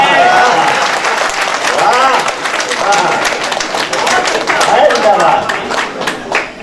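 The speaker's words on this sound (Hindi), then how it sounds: "अच्छे मन से ताली आप सब बजा रहे हैं" Steady applause from an audience at a Hindi comic poetry gathering, dense clapping running continuously throughout at full volume, with a speaking voice faintly carrying over the crowd.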